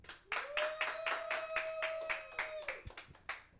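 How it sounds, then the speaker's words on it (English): A comedy club audience claps in a steady, rhythmic beat to welcome comedian Frankie French, with a held tonal note running over the clapping, which then breaks into looser scattered claps. "Ladies and gentlemen, give a warm round of applause for Frankie French."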